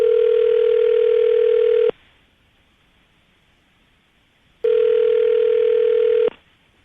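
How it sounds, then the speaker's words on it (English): Steady telephone dial tone on a landline call, sounding in two long even bursts separated by a silent gap, loud and clean with no voices. "I'm going to dial the phone number right now, see if we can get him on the phone"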